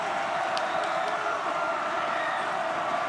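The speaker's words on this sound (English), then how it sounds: "listen to the crowd. Man, it is loud in here." Loud, steady crowd noise fills a packed gym at a close high school basketball game between Smithville and Platte County, a continuous roar with no breaks.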